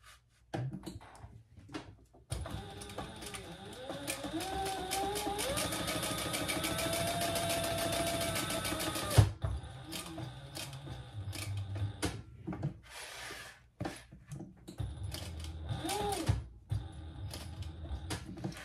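A sewing machine stitches a faux snake crossbody bag in a long steady whirring run, with shorter bursts and handling clunks before and after.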